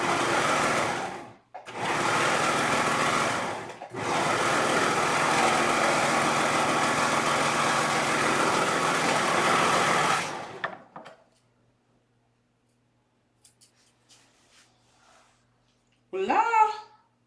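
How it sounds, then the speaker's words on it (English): An overlocker serger sews a garment's side seam in long, loud, steady motor runs broken by two short pauses, then stops and leaves faint handling clicks and a brief burst of talk near the end. "And now go above the pocket and serge that portion."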